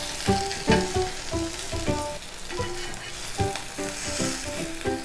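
A bread omelette fries in a hot pan with a steady close sizzle, broken by several sharp scrapes and clatters as it is turned and shaped with a spatula.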